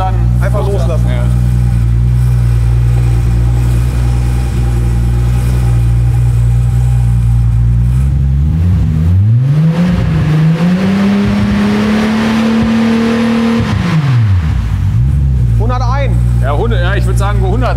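VW Golf engine, noted as very loud, idling with a low steady drone, then revved up to about 5000 rpm and held before being released back to idle; people talk briefly near the end.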